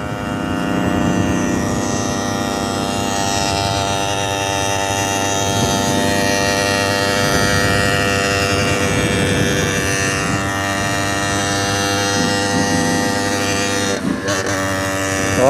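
A 66cc motorized bicycle engine with a 36-tooth rear sprocket runs steadily at speed, its droning buzz loud and constant with wind rush throughout and a brief dip near the end.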